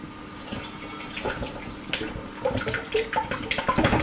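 Home-brewed hoppy cider at 7.4% ABV being poured in a dramatic, splashy stream, liquid gurgling and spattering louder toward the end, with no talking over it.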